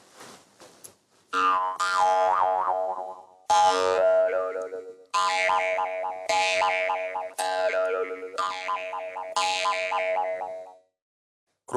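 An old Yakut khomus jaw harp, about 30 years old, plays in several twanging, resonant phrases with shifting, vowel-like overtones, close and clear with brief pauses between them.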